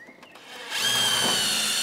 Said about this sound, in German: Jetzt muss Renner wieder vorbohren.